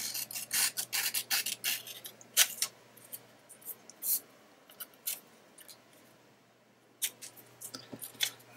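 Scissors snipping paper to trim a cut-out close for a circle collage art journal page, with quick bursts of crisp close cuts separated by short pauses, no talking.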